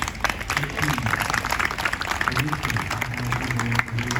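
Audience applause at a poetry festival in Harlem, New York City, a steady crackle of clapping from a modest crowd with a voice speaking over it.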